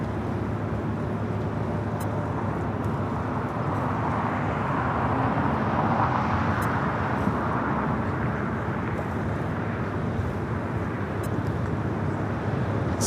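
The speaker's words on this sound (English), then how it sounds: "Delta 428 taking off to Lihue on the 757-200" A Boeing 757-200 jet takes off at LAX as a broad, steady roar that swells slightly midway and holds on without a break, heard from a distance.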